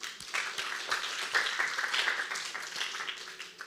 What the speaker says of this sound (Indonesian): Tepuk tangan lu buat Tuhan.